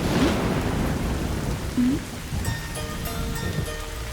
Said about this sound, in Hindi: बारिश हो रही है, कोई बात नहीं